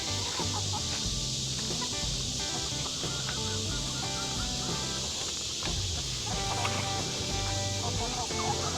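Several chickens cluck and murmur continuously nearby, a busy flock chattering over a steady background hiss, with a person speaking intermittently.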